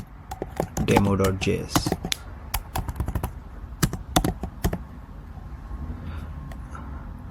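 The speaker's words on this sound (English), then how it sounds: "Now to run the code, we simply type node" Computer keyboard keys clatter in quick bursts while a command is typed to start a Node.js server, with someone speaking over the typing.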